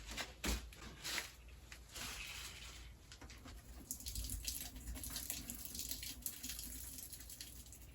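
Water from soaked peas runs off and drains into a container, a steady close trickling and splashing with a few brief clatters, fairly quiet throughout.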